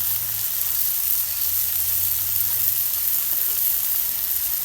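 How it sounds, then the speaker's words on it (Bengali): Small fresh river puti fish frying in hot oil, a constant, even sizzling hiss held close and loud throughout, with no breaks or voices. "পুঁটি মাছ কিরম করে ভাজা লাগে দেখেন আপনারা।"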